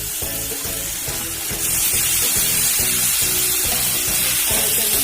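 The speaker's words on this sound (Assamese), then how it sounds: "এনেকৈ মই লৰাই লৰাই ভাজি আছো" Raw jackfruit and tomatoes fry in a pan, giving a steady loud sizzle with regular scraping knocks as the mix is stirred in a repeating rhythm; the hiss brightens partway through.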